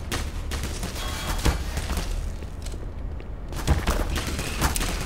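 Rapid bursts of machine gun fire in the video game Black Mesa Source, loud and close, with sharp booming shots punctuating a continuous clatter throughout.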